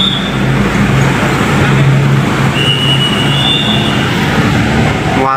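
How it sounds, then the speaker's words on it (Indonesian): Loaded truck passing on a highway in Indonesia, a loud continuous engine and tyre roar close by, with steady road noise and a faint high tonal whine rising partway through, no speech. "Ini juga ada truk lintas ya"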